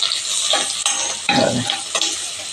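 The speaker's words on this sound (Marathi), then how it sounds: "आपली फोडणी चांगली झालेली आहे" Oil tempering with turmeric and asafoetida sizzles steadily in a pan for a home-style French bean stir-fry. A spoon stirs through it, and a louder scraping, crackling burst comes midway. No voices.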